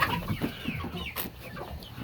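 Roosters and hens clucking in a coop with blue Australorps among them, a busy overlapping chorus of clucks and short calls, moderately close and steady, with no talking.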